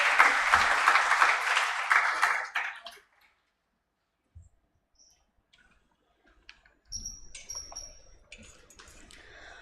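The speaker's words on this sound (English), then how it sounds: "a round of applause for them" Audience at a cross-cultural family law event applauds the organizing committee: dense, fairly loud clapping for about two and a half seconds that cuts off into near silence, followed by faint clicks and shuffling.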